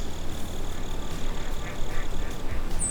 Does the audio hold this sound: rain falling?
no